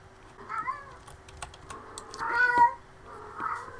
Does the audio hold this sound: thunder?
no